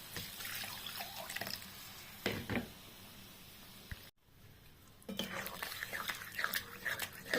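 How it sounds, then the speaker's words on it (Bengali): Water is poured into a hot pan of cooked-down tomatoes, a steady splashing rush that cuts out briefly partway through and then returns with bubbling and sizzling. "আমি এবার জল দিয়ে দেবো।"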